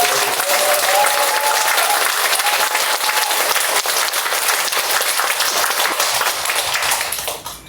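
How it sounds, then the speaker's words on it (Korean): An audience at a Buddhist temple dharma talk claps for the monk in a loud, dense round of applause that holds steady, then tapers off at the very end. "우리 스님께 큰 박수를 주세요"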